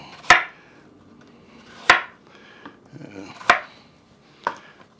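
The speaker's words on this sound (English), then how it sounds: "now we are going to cut our onion up, and it's going to be bigger chunks" A knife cuts an onion into big chunks on a board for pepper steak, four sharp, well-spaced chops close up with quiet rustling between them.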